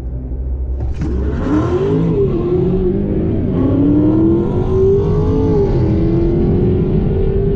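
A car with a 6.4 Hemi engine launches down a drag strip, the engine's roar climbing in pitch through several gear changes, loud and close, with no talking.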